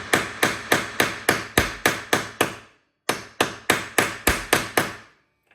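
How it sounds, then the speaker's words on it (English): Sharp metallic hammer blows flattening metal for a wooden golf putter build land in a steady rhythm, about eleven strikes, a short pause, then nine more, close and loud with no talking. "all I've done was taken a hammer"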